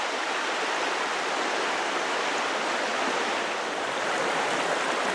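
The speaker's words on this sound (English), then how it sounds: "Water, dancing light on water, rushing over stones." River water rushing over stones in Knaresborough, Yorkshire: a loud, steady, continuous roar of flowing water that fills the whole stretch without pause and with no one talking.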